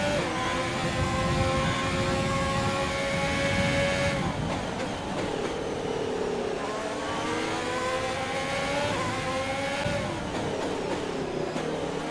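High-revving Formula 1 engine in a racing video game, loud and close, rising in pitch through gears with brief drops at shifts near four and ten seconds, continuous throughout.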